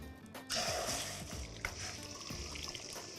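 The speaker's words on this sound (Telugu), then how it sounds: "ఇలా బీట్ చేసిన ఎగ్ని మనం దీంట్లో వేసేద్దాం" Beaten egg poured into hot oil, sizzling and frying with a loud initial burst that settles into a steady crackle, close up with faint stirring noises and no talk.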